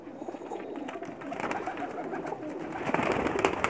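Pigeons cooing on a rooftop loft in Sarai Alamgir, soft repeated coos over a busy background of rustling and other bird sounds, growing a little louder toward the end, with no clear speech.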